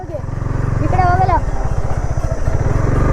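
A Yamaha motorcycle engine running close by with a steady pulsing putter, while a voice speaks over it.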